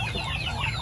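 Upgraded native chickens cluck softly in a short burst on a farm, a few low, close calls over steady background noise.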